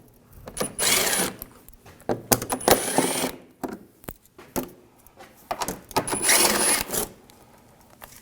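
Metallic clinks and rattles of small screws coming out of the underbody shield of a 2007-2013 BMW 328i 3.0L inline-six, worked with an 8mm socket; several bursts of ratcheting and jingling, close up, with short pauses between.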